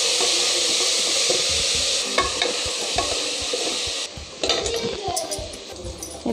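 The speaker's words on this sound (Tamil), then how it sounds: "அடுத்ததாக புதினா, மல்லி, கருவேப்பிலை சேர்த்துக்கோங்க. இதையும் வதக்கிக்கோங்க." Mint, coriander and curry leaves sauté in a hot pan for Ramadan nonbu kanji, with a loud sizzle, rhythmic spoon scraping and metal clinks against the pot, then a brief pause before stirring resumes.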